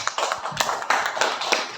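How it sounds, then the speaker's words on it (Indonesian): A classroom audience applauding group presentations, a short round of quick, sharp claps from a small group, fairly close and steady throughout. "Kita berikan aplaus untuk kita semua."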